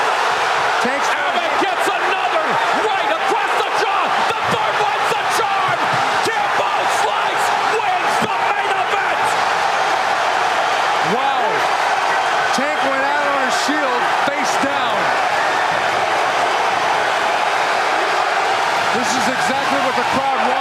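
A packed crowd at a Kimbo Slice fight roars in a constant loud wash of cheering that never lets up, while commentators talk over it.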